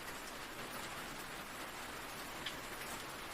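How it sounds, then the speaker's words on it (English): Steady light rain falling around a cabin, an even, soft hiss of drops on surfaces that stays constant and fairly quiet throughout with nothing else over it. "The rain continued, steady but light."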